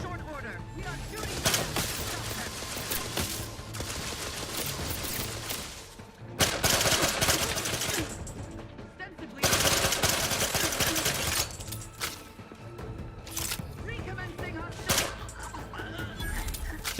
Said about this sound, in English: Changing magazines efficiently and in short order. We are shooting.